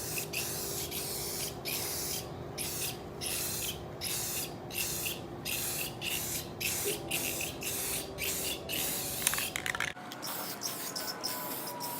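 Short bursts of spray paint hiss onto the tail lights of a 1969 Dodge Charger, repeated in a quick regular rhythm close by, over a low steady hum, stopping near the end.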